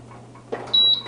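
A West Bend XL air fryer oven gives a thin, steady electronic beep lasting a few tenths of a second, followed by a second shorter tone, over a low mains hum and faint handling noise.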